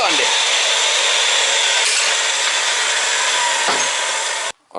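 A gas pipe being cut and reamed while a Weber natural gas grill is installed, heard as loud continuous rasping and scraping up close that stops abruptly near the end.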